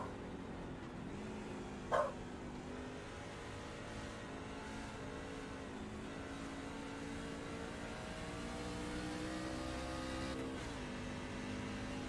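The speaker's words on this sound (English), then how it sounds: "Dogs are sitting in the old studio here and kind of enjoying it." Dogs in a studio give a single sharp bark early on, set against a steady engine drone from a truck race broadcast that runs throughout.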